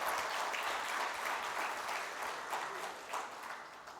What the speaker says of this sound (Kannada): ದೊಡ್ಡ ಚಪ್ಪಾಳೆ.